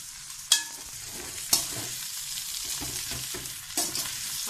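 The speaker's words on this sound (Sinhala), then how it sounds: "දැන් අපි බැදගත්තු බටු ටික එකතු කරනවා" Fried eggplant pieces are tipped into a sizzling pan and stirred for batu moju, a soft frying hiss punctuated by three sharp utensil knocks against the pan.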